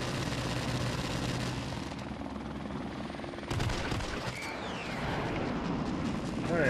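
A helicopter in the video game Call of Duty: Modern Warfare Remastered, a steady rotor drone with a sudden burst of gunfire and impacts partway through, a few sharp bangs following.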